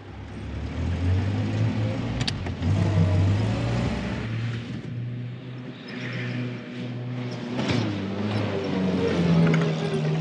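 A Land Rover Series III truck drives with a steady low engine drone and some road rumble, a couple of sharp knocks partway through, and no talk.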